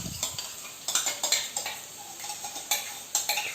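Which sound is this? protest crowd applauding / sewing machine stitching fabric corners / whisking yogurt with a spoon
whisking yogurt with a spoon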